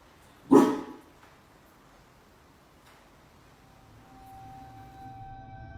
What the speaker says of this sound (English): this Doberman seems to have caught a scent of something that shouldn't be there